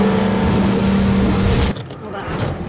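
A $30 million car driven hard at its limit, loud engine roar that holds steady and close, then drops away abruptly as the power cuts, followed by a softer, rougher rumble.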